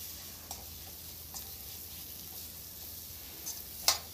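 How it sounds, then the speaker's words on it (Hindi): Spiced potatoes for kachori masala roasting in a pan: a soft, faint sizzle with a few light taps and scrapes of stirring, and no voices. "मसाले आलू को मसाले में भून लेते हैं"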